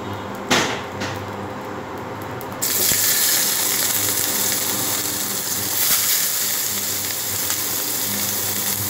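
Onions dropped into hot oil for a Bengali rui fish curry, a steady sizzling hiss that swells louder after a few seconds and stays continuous and close, with faint clinks at the start.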